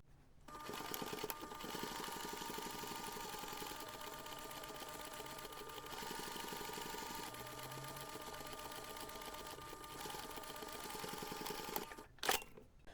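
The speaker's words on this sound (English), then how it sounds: "Now take this to the machine and you can stitch the seam using 1 cm seam allowance" A sewing machine stitches a 1 cm seam on a mini snap pouch, running as one steady, continuous whir for most of the stretch before a short clunk near the end; no one talks.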